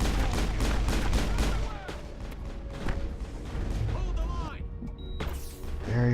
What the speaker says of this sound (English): And they're shooting at us.